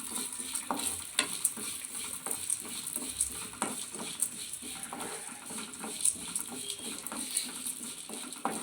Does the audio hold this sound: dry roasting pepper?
yes